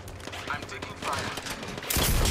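Rapid gunfire bursts in the battle royale shooter Apex Legends, crackling loudly in quick succession with a heavier burst at the end, layered with game sounds.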